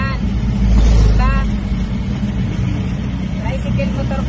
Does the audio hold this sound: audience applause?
no